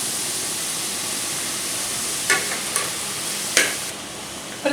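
Onion, green chili and long-sliced tomato sauté in a pan for egg roast, producing a steady moderate sizzle with a few sharp spatula clacks against the pan near the end.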